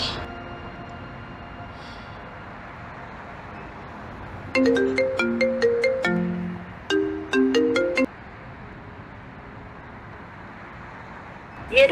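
Ringing tones play on an outgoing phone call in an Ethiopian drama: two short melodic ring phrases, each a quick run of chiming notes, sound at moderate volume over a quiet background hum.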